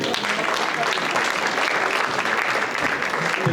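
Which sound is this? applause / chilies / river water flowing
applause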